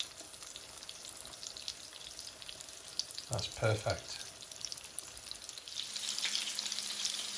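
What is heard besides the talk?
chicken schnitzel sizzling while frying in a pan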